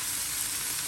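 Chicken, garlic and chopped vegetables such as peas, carrot, bell pepper and cabbage frying in a pan for desi fried rice, giving a steady, even hiss of sizzling oil throughout with no talking.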